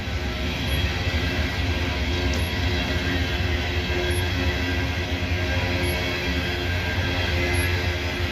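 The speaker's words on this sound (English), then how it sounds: "I don't know what coal train this is or where it goes to." A coal train rolls through Abbeville, a steady low rumble of wagons passing close and continuous, with faint periodic high-pitched clicks above the constant grinding roar.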